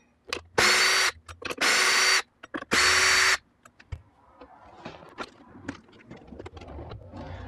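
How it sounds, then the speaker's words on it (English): Power driver with a size 4 hex bit backing screws out of an InMotion V8F electric unicycle during disassembly, three loud, close whirring bursts about a second each, then quiet handling clatter. "So I'm just going to unscrew those and put those aside."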